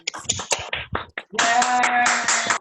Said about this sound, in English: Everybody give Dave a round of applause.